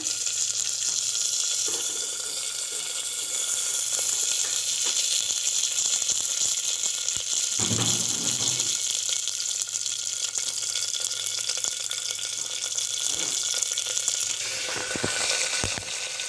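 Mustard seeds crackle and splutter in hot oil along with cumin and curry leaves, tempering for fenugreek-leaf dal: a steady loud sizzle with scattered sharp pops throughout.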